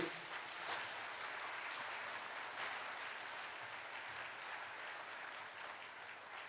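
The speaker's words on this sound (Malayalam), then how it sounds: "ഒന്ന് കൈയടിച്ച് കർത്താവിനെ മഹത്വപ്പെടുത്തിക്കേ" A congregation at a Malayalam religious talk claps to praise the Lord, producing a soft, distant and continuous round of applause.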